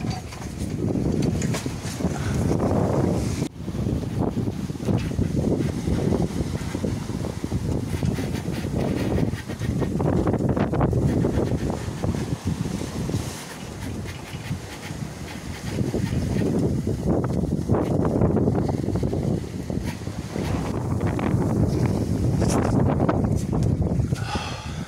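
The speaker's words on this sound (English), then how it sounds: "The wind did die down a bit." Steady wind on a sailboat crossing the Atlantic alone, a broad rushing roar with gusty swells and faint water and rigging noise throughout.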